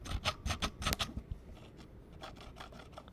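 Scratchy, crackling bursts as the volume knob on a Squier Debut Telecaster is turned, held right up to the microphone, with rapid rough pulses followed by quieter intermittent scraping.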